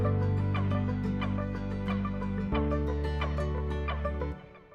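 Palm-muted fingerstyle guitar overdubs from the CTO Fingerstyle Guitar Vol 1 MIDI sample library by Orange Tree Samples play as a run of short, damped plucked notes over a sustained low bass note that shifts pitch midway, with nobody talking.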